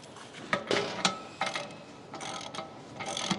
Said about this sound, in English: we're going to need 1 1/16 socket to stick the anode rod back in